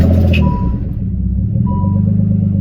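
A modified Nissan 300ZX making around 500 horsepower runs loud, its deep, steady engine rumble filling the whole stretch close by. Two faint tonal beeps sit above the drone.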